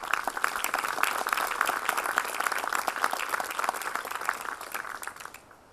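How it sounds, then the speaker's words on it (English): An audience applauds a group after a speech, a dense even wash of clapping at moderate loudness that fades out over the final second. "I'd like you to all give a really big round of applause to this group."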